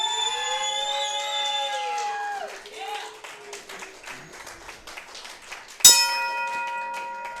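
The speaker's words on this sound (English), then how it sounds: "The bell has rung" A ring bell at a professional wrestling match clangs sharply once near the end with a ringing tone that lingers, following a stretch of sustained, wavering tones.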